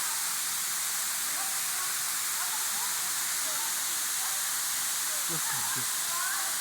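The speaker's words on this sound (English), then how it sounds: "Look at this amazing waterfall." The Kawasan Falls waterfall in Bohol pours with a constant broadband roar, steady and enveloping throughout, while a voice speaks briefly over it.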